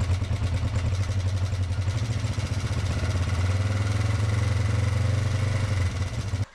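A motorcycle engine idles at roughly 1200 rpm while its carburetors are synchronised, a loud, steady, even low thrum with slight mechanical clatter, heard up close and alone.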